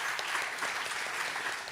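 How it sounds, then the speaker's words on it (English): Steady audience applause at a Bitcoin and Nostr conference, dense and sustained, heard from within the crowd. "I never thought Roger Ver will get applause from this group"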